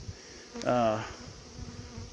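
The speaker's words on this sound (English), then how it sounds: "here's a bee that's he feels like stinging me. You can tell by his buzzing." A honey bee buzzes close to a beekeeper preparing a nuc hive for winter, giving one short, loud, whining burst of under half a second over a faint background.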